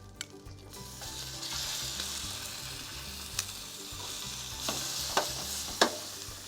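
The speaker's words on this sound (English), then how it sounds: "I'm going to add a little bit more oil to the pan, and we're going to cook off some lemon slices and some garlic." Lemon slices and garlic fry in oil in a pan, giving a steady bright sizzle with a few sharp spatters and stirring clicks and no talking.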